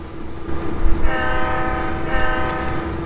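A train horn sounds over the rumble of a passing train in the Trainz rail simulator, the horn sustained through the middle of the clip with a second blast near the end, loud and close with no talk.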